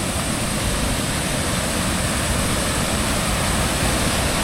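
A swollen, muddy forest river after rain rushes past in a loud, steady broadband roar, constant and close with no voices over it.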